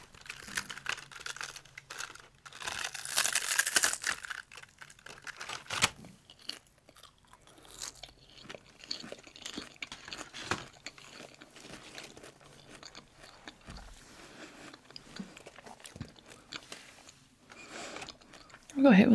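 Close, crisp bites and crunches of a brittle, spicy Thai seaweed snack, with crackly chewing and crinkling packaging rustle throughout, intense crunch bursts early on and a speaking voice under the mouth sounds.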